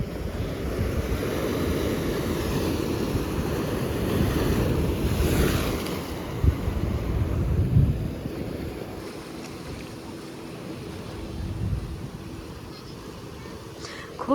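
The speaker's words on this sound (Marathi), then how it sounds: "खूप जोरात लाट आली की इथपर्यंत पाणी येतात ते." Sea waves breaking and washing up on Khavne beach in Konkan, a continuous broad roar with swells rising and falling, wind buffeting the microphone and faint voices in the background.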